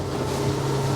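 A CruiseCraft F360M powerboat motor runs at close to 4,000 RPM while the hull punches straight into waves, a loud, continuous droning hum with steady low tones and wind rush, close up and unbroken.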